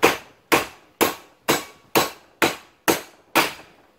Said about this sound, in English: take a nice heavy hammer here, just lay it on this flat piece of the vise and just give it a few taps, turn it over.